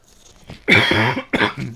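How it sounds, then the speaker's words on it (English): A person coughs loudly and close by during a MacBook repair, with one long rough cough followed by a shorter second burst. "I've got a cough."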